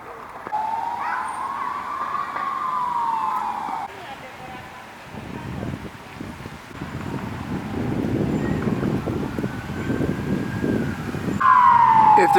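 Ambulance sirens sweep past in Oradea, Romania, one wailing tone rising and falling early, then fading under wind and street noise before a second siren cuts in loud and close at the end.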